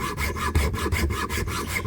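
Stag antler beads being marked by hand with a file or small saw, a steady back-and-forth rasping stroke repeating about every quarter second, close and quiet with no talking.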